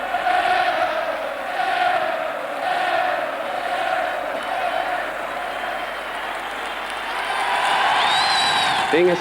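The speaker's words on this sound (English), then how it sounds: "they must really be hoarse after all the singing and chanting in the past 3/4 of an hour" Liverpool Kop football crowd at a 1974 match, a huge mass of voices singing and chanting in a sustained, loud roar, with swelling cheers and some applause mixed in.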